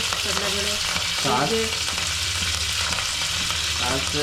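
Mustard seeds fry in hot oil for a roti-and-gravy dish with curry leaves, giving a steady, loud sizzle with crackles that runs the whole time, with a few stirring scrapes on top and no speech.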